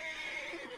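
A horse in Red Dead Redemption 2 gives a short, clear neigh, faint and alone with no talk.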